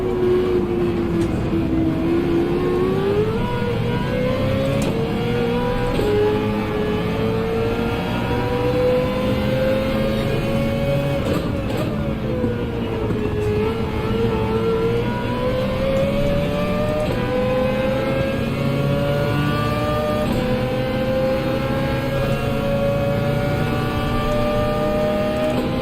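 Mazda 787B rotary race car in the Gran Turismo racing game, its engine wailing continuously and loudly, pitch rising through each gear and dropping at shifts, with no voices over it.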